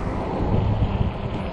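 Wind buffeting the microphone during a ride on an Ecotric 20-inch 48V fat-tire e-bike on a chilly October day, a steady low roar and rumble that fills the whole stretch, loud and close, with no talk.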